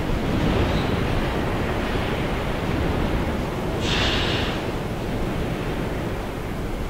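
Water in the video game Black Mesa, a continuous rushing wash of noise, steady and fairly loud throughout, with a brief brighter hiss in the middle.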